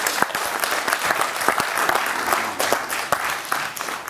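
Studio audience applauding on a Georgian comedy game show, a dense, steady wash of many hands clapping throughout, fairly loud and close, with no voices over it.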